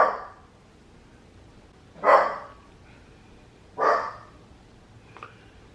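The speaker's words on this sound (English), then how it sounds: "my dog is barking" Dog barking indoors, three separate sharp barks spaced a couple of seconds apart and a fainter fourth yip at the end, fairly close against a quiet room.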